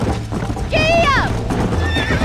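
A horse in the Red Dead Redemption video game gives one clear, close neigh while its hooves keep a steady clip-clop beneath, with a second fainter whinny near the end.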